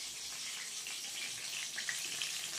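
Eggplant slices frying in a pan give a steady, soft, hissy sizzle throughout, close but fairly quiet, with no talking over it.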